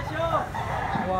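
A big rooster at a market crows in a short, close call that rises and falls. The bird sounds over background chatter.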